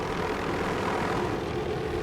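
A passing helicopter drones steadily overhead near an active volcano, a continuous broadband engine and rotor roar at even loudness, with no talk.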